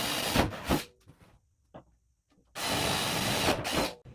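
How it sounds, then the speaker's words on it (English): A 2-inch hole cutter drills through a skid plate for wastegate holes in two loud grinding bursts, separated by a quiet pause with a brief click, close to the microphone. "we're going to go ahead and drill some 2-inch holes for these wastegates"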